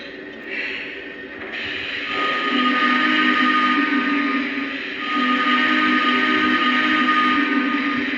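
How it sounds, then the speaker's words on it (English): Southern Pacific GS steam whistle played by a Lionel model locomotive: a long, drawn-out chord that swells, briefly eases, then holds again, with a reverberant, echoing tone and no voices. "That's a Southern Pacific GS whistle."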